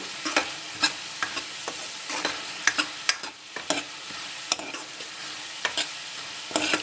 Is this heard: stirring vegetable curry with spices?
yes